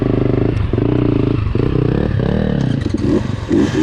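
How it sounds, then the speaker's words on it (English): Dirt bikes ride a tight singletrack trail during the Death March 2024 event, engines buzzing loud and close with rising and falling revs, throttle blips and a rattle of clatter over rough ground. "Woohoo, dirt bikes!"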